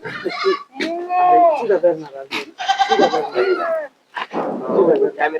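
Sojat male goats bleat repeatedly at a farm, several loud, wavering calls close by with brief pauses between them, and someone talks over the animal sounds.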